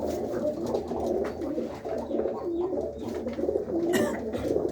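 Pigeons coo in soft, repeated low calls close by, a few overlapping murmurs with no talking.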